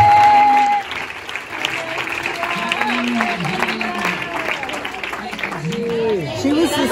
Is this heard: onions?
no